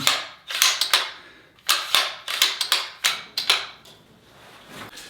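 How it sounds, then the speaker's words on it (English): A light bolt-action rifle being worked by hand, with a series of sharp, close metallic clacks and slides in quick clusters, loud and dry with short pauses between strokes and no voices. "Love this gun because it's really light. Smooth bolt action."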